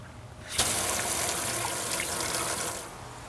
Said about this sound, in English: then turn the pump on by simply plugging the cord into a power source